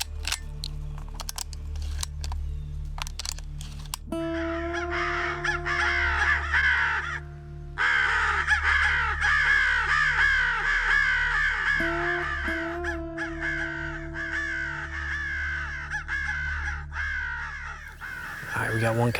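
Crows caw repeatedly in an open field during a crow hunt, harsh calls at varying distances, some near and loud, alongside sustained electronic call tones and occasional camera clicks.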